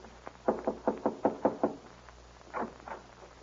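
Knuckles rap on a ranch house door as a radio drama sound effect: a run of seven firm knocks, then a short pause and two more, close and distinct against a faint hiss.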